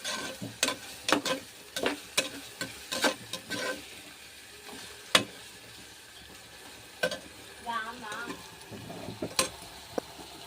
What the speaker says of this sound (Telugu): ఇప్పుడైతే ఇలాగా ఫ్రై అయిపోయినాయి ఈ ఆనియన్స్ మునక్కాడ అన్నది